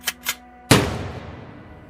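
Gunshots staged in a student film: two quick sharp pops close together, then a much louder, near single blast that rings out and decays over about a second, with no talk.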